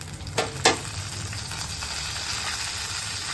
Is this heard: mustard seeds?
yes